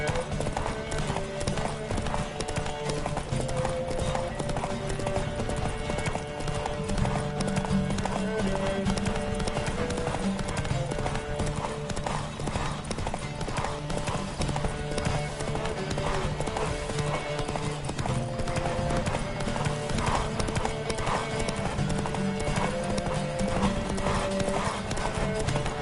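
A horse gallops in a race in The Witcher 3, with rapid, rhythmic hoofbeats pounding without pause, a brief neigh mixed in, and a tune playing underneath.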